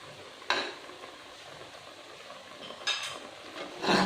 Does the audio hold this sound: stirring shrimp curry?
yes